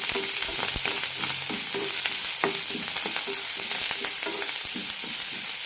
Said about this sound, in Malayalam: സവാള ട്രാൻസ്പാരൻ്റ് ആകുന്നവരെ വഴറ്റിയെടുക്കാം